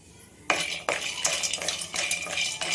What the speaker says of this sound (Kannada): ಇಷ್ಟನ್ನು ಹಾಕಿ ಫ್ರೈ ಮಾಡ್ಕೊಂಡು ಹಸಿ ವಾಸನೆ ಹೋಗೋವರೆಗೂ ಫ್ರೈ ಮಾಡ್ಕೊಬೇಕು.